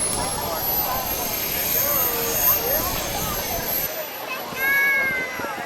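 A King Tech turbine jet engine with 38 pounds of thrust, on a 50-pound radio-controlled airplane, runs at an outdoor hot air balloon festival, giving a steady high-pitched whine and rushing roar, with a voice speaking over it.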